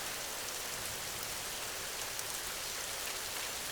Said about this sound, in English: The rain followed her, trickling down into the opening